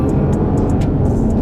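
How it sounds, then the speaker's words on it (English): Low rumbling road and tire noise fills the cabin of a moving Toyota RAV4 steadily, with faint high ticks on top. "The tires make a little more noise."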